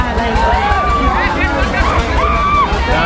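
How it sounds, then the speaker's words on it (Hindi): Dense crowd hubbub at the Bojiya Kartikeshwar fair of 2022, a steady wash of many overlapping voices close around with shouted calls rising now and then, continuous for the whole stretch. "तो गाइस यहाँ पे बहुत फुल भीड़"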